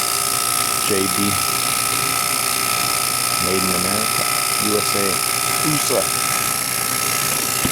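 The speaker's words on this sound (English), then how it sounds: "Good vacuum pump." A JB Platinum vacuum pump runs on a greenhouse AC system with a steady, even mechanical drone throughout, while someone talks over it close by.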